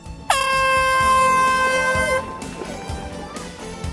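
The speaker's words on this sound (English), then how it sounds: "the starting horn sounds and the runners are off" A loud air horn gives one long blast of nearly two seconds to start a marathon, followed by crowd noise and footsteps or clatter in the background.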